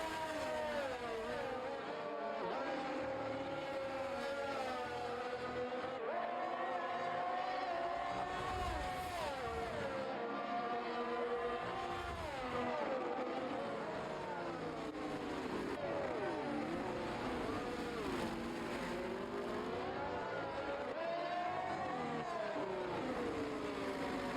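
A race car at Austin in the USA drives past with a loud, sustained engine whine. Its pitch rises and falls through gear changes and a doppler sweep, with steady roar and no talk.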